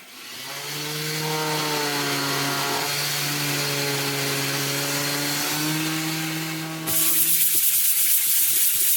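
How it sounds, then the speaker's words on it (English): A power sander whines steadily and loudly as it smooths a wooden ladder spline box joint, humming at an even pitch for several seconds before cutting off into a brief rush of noise. "We'll sand it up, and then we'll be done."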